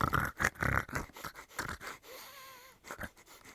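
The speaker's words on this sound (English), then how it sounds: "You can hear now the dogs as they're getting closer." Rapid, breathy snorts and sniffs repeat in quick bursts close by, with a faint whine in between and no talking.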